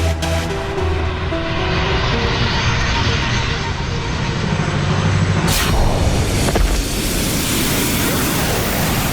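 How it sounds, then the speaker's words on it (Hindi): An airplane's engines roar loudly and steadily and swell as the aircraft speeds up. A sharp whooshing burst comes partway through, and the dense engine noise continues throughout a dramatic fantasy TV scene. "अब मैं इस विमान की गति इतनी तेज कर दूंगी"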